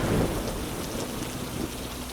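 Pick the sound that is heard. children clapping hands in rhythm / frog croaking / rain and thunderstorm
rain and thunderstorm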